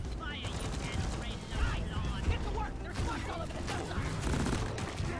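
Automated turret gunfire in Deep Rock Galactic rattles steadily and loudly through the whole stretch, dense rapid bursts layered with mechanical clatter and game effects, with a voice talking over it.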